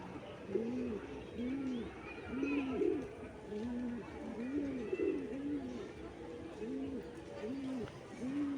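Pigeons coo in a hot rooftop loft, a steady series of rounded, rhythmic coos repeating about every second, fairly close, with faint bird chatter and background noise.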